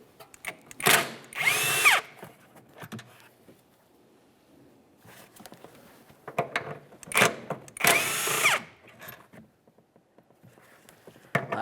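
Power tool spinning out 15mm shock mounting bolts on a GMC Acadia, with four short, loud bursts arranged in two pairs and quiet gaps between them, close by.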